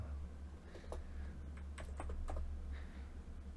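Computer keyboard keys pressed while setting up a C# project, a handful of soft, scattered clicks over a low steady hum, close but quiet, with no one speaking.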